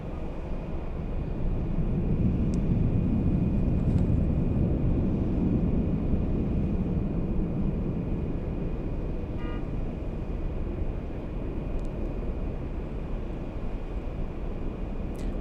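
An Airbus A380 airliner at LAX rumbles steadily as it turns, a loud broadband jet roar that swells slightly and then holds for the whole stretch, with no talking.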